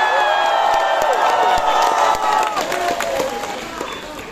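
Concert crowd cheering, whooping and applauding, loud and close with high shouts and whistles over clapping that gradually eases off.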